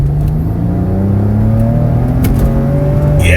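Maserati Ghibli SQ4 engine pulling hard under acceleration on an open road, a loud steady drone with rising harmonic tones as the revs climb, heard from inside the car with no talking.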